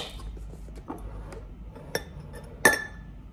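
A Puffco Peak atomizer is set down into a bowl with a few light glassy clinks and taps, the sharpest clink near the end, in a quiet room.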